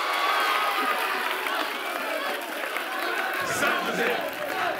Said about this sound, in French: Applaudissements pour le Saint-Joseph Collège